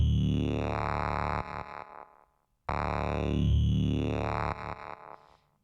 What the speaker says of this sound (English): another tip and trick that I like to use sometimes is this downsampling in the distortion mode